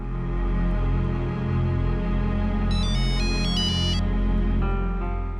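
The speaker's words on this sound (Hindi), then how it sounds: "रिंग जा रही है" A phone ringtone plays continuously, a bright electronic melody with high repeating tones over a steady hum, loud and close with no talking.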